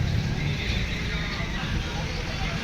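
A horse whinnies at the Nabha horse fair in Punjab, a close, loud neigh set against a busy, noisy outdoor background.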